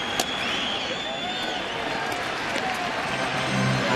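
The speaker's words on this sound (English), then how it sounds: "The crowd energized again after that hit." A baseball crowd at a Philadelphia Phillies home game against Atlanta cheers and applauds in a steady, moderately distant roar after a hit.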